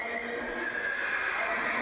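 A Franches Montagnes horse at the horse lines of the Marché Concours gives a sustained, fairly close whinny, a strained, tonal neigh heard alone over a light outdoor background.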